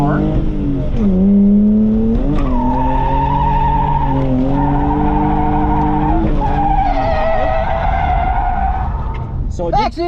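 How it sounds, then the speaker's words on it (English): Rented drift car sliding at a Utah drifting event, its tires squealing loudly and continuously with wavering pitch over a droning engine, ending with sharper tire chirps. "Okay, let's go drift."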